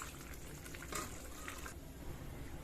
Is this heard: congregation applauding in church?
no